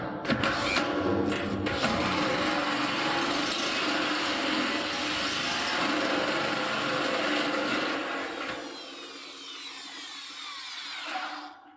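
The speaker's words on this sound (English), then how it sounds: "This tool is slipping in the drill chuck." An electric drill runs continuously with a bit slipping in its chuck, giving a close, steady whirring buzz that winds down near the end.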